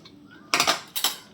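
Metal pressure cooker being opened and boiled potatoes lifted out in a home kitchen, heard as a few sharp close metallic clinks and clatters in two quick bursts.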